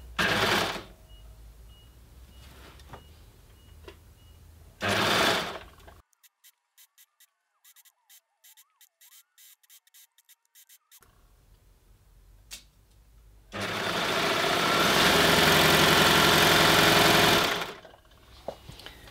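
An overlocker serges a seam on a jersey dress in loud continuous bursts, first two short runs, then a long sustained run near the end, with quiet handling and faint ticking clicks between.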